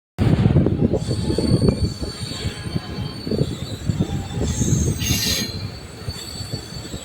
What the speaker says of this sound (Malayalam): അങ്ങനെ ട്രെയിൻ മെല്ലെ നീങ്ങി തുടങ്ങിയിട്ടോ